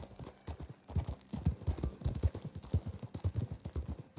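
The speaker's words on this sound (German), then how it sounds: "Das ist schon ein schönes Pferd" Steady clip-clop of horse hooves in the video game Red Dead Redemption 2 at a walking pace, close and fairly clear, with a rhythmic pattern of hoof strikes and no talking.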